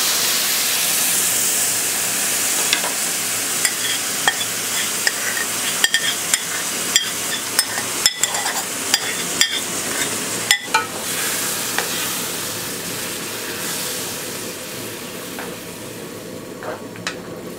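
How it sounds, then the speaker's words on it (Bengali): Soaked haleem grains and lentils added to fried meat in a hot pan, a loud continuous sizzle with repeated sharp scraping and stirring clicks throughout. "শুরুতে ভিজে রাখা সেই হালিমের শস্য এবং ডালগুলো একসাথে যেটা রেখেছিলাম সেটা দিয়ে দিচ্ছি।"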